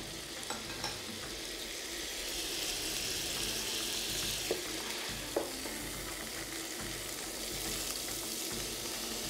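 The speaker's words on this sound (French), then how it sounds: "Je fais revenir légèrement pour extraire le jus" Food being lightly sautéed in a pan to draw out its juices gives a quiet, steady sizzle, broken by a few faint clicks from stirring.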